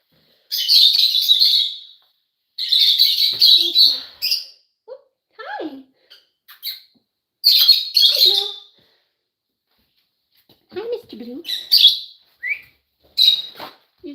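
Pet lovebirds, small parrots, give bright, shrill chirps and tweets in repeated bursts with short pauses, close to the microphone, while a person talks softly between the calls.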